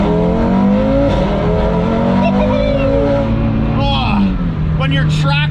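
A car with a built TTE700 turbo engine on E85 fuel, Unitronic tune, accelerating hard along back roads, its loud engine note rising and shifting through gears with continuous drone, speech heard over it.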